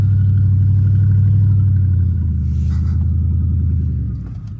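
A 2003 Ford Crown Victoria idles close by, a loud, deep, steady engine rumble with a faint clatter that eases slightly near the end, with no one talking.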